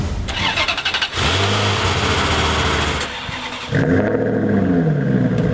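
A sports car engine cranks and fires, then revs hard in loud bursts, the pitch rising and falling close by.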